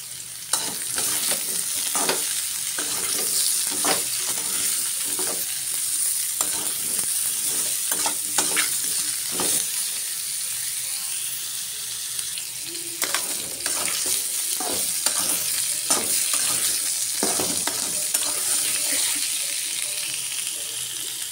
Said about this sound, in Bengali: একটু লবণ, একটু হলুদের গুঁড়ো, আলু পটলটি ভেজে নেব।